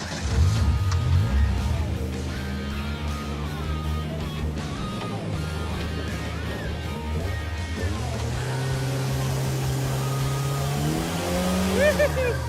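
A Nash Metropolitan's engine runs steadily while the car drives on a road trip, a loud, continuous drone rising and falling in pitch with the throttle, with people talking over it.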